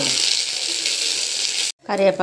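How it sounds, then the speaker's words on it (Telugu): Green chilli and peanuts fry in hot oil, giving a steady, loud hiss of sizzling that cuts off abruptly before a voice begins speaking. "అదే ఆయిల్లో ఒక పచ్చిమిరపకాయ కొన్ని పల్లీలు అయితే వేసి వేగనివ్వాలి"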